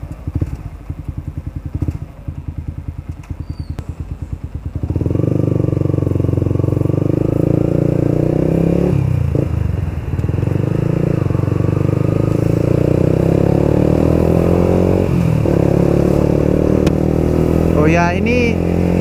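A Yamaha YZF R15 V2 sport motorcycle engine on a test ride drones loudly and steadily for most of the clip, after a short idling stretch, with pitch shifts as it pulls and a voice talking over it.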